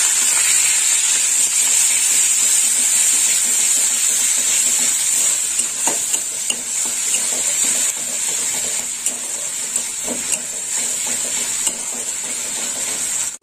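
A loud, steady sizzle of onion paste frying in hot oil, with a few faint scraping stirs over the continuous hiss.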